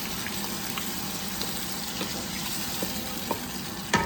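Tamarind juice goes into a pan of bagara baingan curry as it is stirred, giving a steady close sizzle and bubbling with a few soft scrapes and clinks from the spoon, and no talking.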